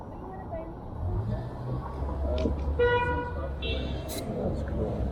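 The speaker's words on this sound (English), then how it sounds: "Somebody's honking crazy." Car horns honk on a Toronto street in Roncesvalles, with a few short toots amid the low rumble of passing traffic. People talk nearby on the busy city sidewalk.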